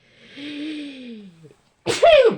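A single sharp sneeze bursts out close by, following a few seconds of a faint high-pitched drawn-out tone.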